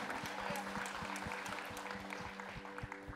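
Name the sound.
congregation clapping hands in church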